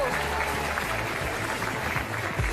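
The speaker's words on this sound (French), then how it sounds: "On applaudit Vincent Niclot." An auction room audience applauds during a sale of a Louis Vuitton suitcase, a dense steady patter of clapping that fills the room evenly from start to finish.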